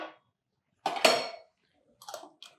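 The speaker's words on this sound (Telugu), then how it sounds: "మూత తీసేసి ఇది కలిపేసేయండి." A metal pot lid clanks as it is lifted off a pot of ragi sangati, followed by a couple of lighter metallic clinks in a quiet kitchen.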